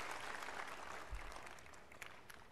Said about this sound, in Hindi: एक बार जोरदार तालियां हो जाए भाई धीरज के लिए